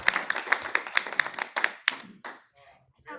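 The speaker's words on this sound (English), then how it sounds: "another round of applause for Caitlin" A small audience claps in a library after a talk on lifestyle, nutrition and exercise for living with MS, with a run of sharp, distinct claps over about two seconds that thins out and stops, followed by faint room noise.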